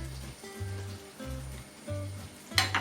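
Crepe batter sizzles in a hot oiled pan, a steady soft frying hiss with low hum underneath, ending in a brief louder crackle burst.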